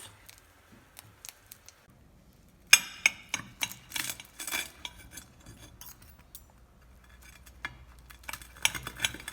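Cooked eggs on halved simit are lifted from a pan onto a serving plate, with scattered clinks and scrapes of utensil against metal and dishware.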